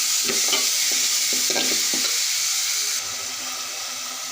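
Dried fish (shutki) sizzles loudly as it is stir-fried in a pan, with a steady hiss and a few scraping stirs of the spatula against the pan, the sizzle easing slightly toward the end.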